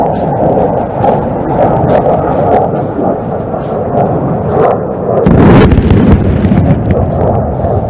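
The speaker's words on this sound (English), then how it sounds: "Watch how the bombs glide towards the target." Bombs dropped from Su-30 fighter jets burst on an enemy runway at an air show, a heavy rumbling roar with wind buffeting, swelling into a louder blast toward the end.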